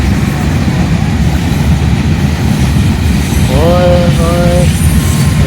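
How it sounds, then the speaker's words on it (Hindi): A train in motion, with a steady loud rumble of rolling wagons and a brief rising squeal of wheels or whistle tones near the end, heard amid a crowd and a little talk. "रेलगाड़ी चलने वाली है।"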